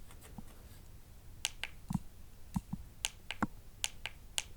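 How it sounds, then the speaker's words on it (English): Sharp, dry snap sounds from an MPC Sample sampler repeat in an irregular pattern over a faint hiss, short and crisp with no talking. "so we have this snap sound"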